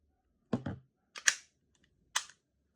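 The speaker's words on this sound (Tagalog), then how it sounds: "WG17 Gen 4, firing" Three sharp, close shots ring out from a WE G17 Gen 4 airsoft gas blowback pistol, the first a quick double crack, each followed by a short hissing tail, with quiet between them.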